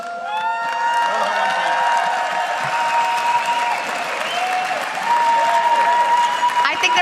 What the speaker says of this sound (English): I think they're going to keep cheering for you guys.